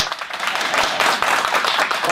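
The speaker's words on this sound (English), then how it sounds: "And round of applause." An audience applauds after a presentation, a dense, steady patter of clapping that holds at an even level for the whole stretch without pause.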